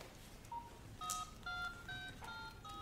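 A telephone number is dialed as a quick series of single touch-tone beeps, each short and distinct with uneven gaps between them, quiet over a faint background hiss.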